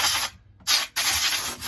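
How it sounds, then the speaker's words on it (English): Compressed air hisses loudly in close, steady blasts around the carburetor of a Stihl MS 441 chainsaw, with two brief pauses between bursts. "I'll take my air compressor or my compressed air here, and I'll blow out around the carburetor"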